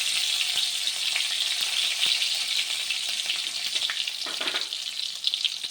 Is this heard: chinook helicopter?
no